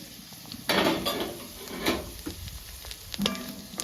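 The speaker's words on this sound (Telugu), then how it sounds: "మూత పెట్టుకొని మధ్య మధ్యలో కలుపుకుంటూ ఫ్రై చేసుకుందామండి." Ivy gourd (dondakaya) sizzling in a covered pan, with a steady fry hiss broken by several clattering bursts as a spoon stirs and scrapes the pan, no talking.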